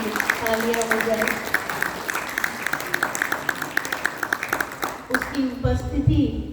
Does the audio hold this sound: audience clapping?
yes